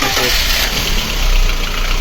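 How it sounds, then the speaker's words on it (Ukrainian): A VAZ 2110 with a 1.6 engine idles in a garage, its steady mid-pitched rumble carrying a faint rhythmic valve tick, close and loud, with someone talking over it. "ось так вона працює у нас. Трохи чути клапанець якийсь цокає"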